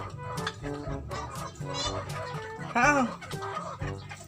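Chickens cluck steadily and close by during feeding time, with overlapping hen calls and a brief human exclamation.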